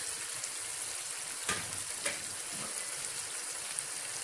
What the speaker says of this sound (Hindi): अब मैं इसकी थोड़ी सी भुनाई करूंगी और साथ साथ मसाले भी ऐड करती हूँ।